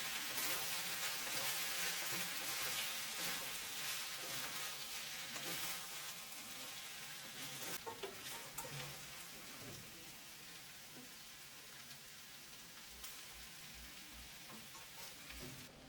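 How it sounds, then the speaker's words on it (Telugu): Fish manchurian pieces frying with a cornflour mixture, a steady close sizzle and crackle of hot oil running continuously at low level, softening slightly toward the end. "మనం ముందుగానే కలిపెట్టుకున్న మొక్కజొన్న పిండి మిశ్రమాన్ని వేసుకుని మొత్తం కలిసే విధంగా కలుపుకుంటూ ఫ్రై చేసుకోవాలి"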